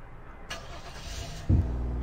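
Police car engine in the game Flashing Lights turning over and settling into a low rumbling idle that swells as the vehicle pulls away, a steady near drone with a sharper rise midway.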